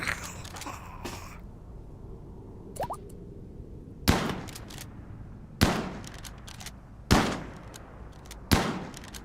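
Gunshots in RimWorld with zombie mods, four sharp evenly spaced single cracks with short decaying tails over a quiet background, preceded by a few fainter pops and clicks.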